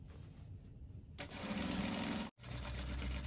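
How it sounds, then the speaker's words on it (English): A sewing machine stitches the V neckline of a cowl bubu garment; quiet handling at first, then a sudden close run of fast, even mechanical whirring that stops briefly and starts again. "Make sure you align the V part very well, and then you are going to stitch the neckline."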